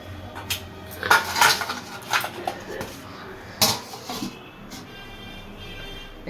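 A metal lid clatters onto a cooking pot of taro stolon curry with fish, with a couple of sharp clanks and lighter metallic knocks over a quiet kitchen background, close by and alone.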